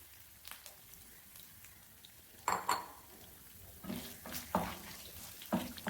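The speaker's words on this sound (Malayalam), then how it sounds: "ചൂടായി കഴിയുമ്പോൾ നമുക്ക് തേങ്ങ എന്ന് വറുത്ത് എടുക്കണം" Scattered scraping and clinking of a utensil against a pan as grated coconut roasts, with soft dry stirring sounds in short bursts, close by.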